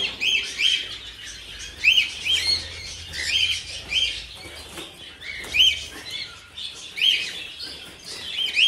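Young feathered birds kept for harvest chirp and tweet in repeated bursts close by, with rustling and flapping wings underneath.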